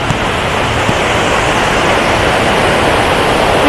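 Water at Pykara waterfall rushes between the hills in a steady, dense roar of torrent, close and constant throughout with no voices.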